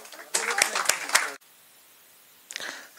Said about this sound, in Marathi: त्या दर्दीसाठी टाळ्या झाल्या पाहिजे.